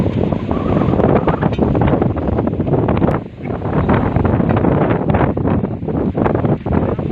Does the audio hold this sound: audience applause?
no